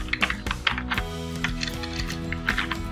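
Keys tapped on a computer keyboard to enter an app name for a home-screen shortcut, a few quick irregular bursts of clicks close by over a steady background hum.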